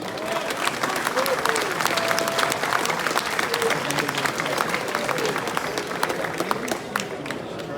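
Sustained audience applause fills a venue during a humanoid robot soccer semi-final, dense steady clapping from a large crowd with a faint voice or cheer mixed in, holding evenly throughout.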